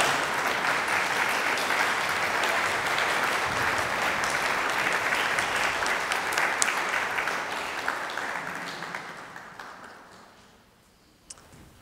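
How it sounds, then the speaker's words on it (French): Wedding guests applauding at the ceremony, broad sustained clapping that gradually thins and fades out near the end, leaving a few scattered claps. "On peut les applaudir, ils ont été magnifiques"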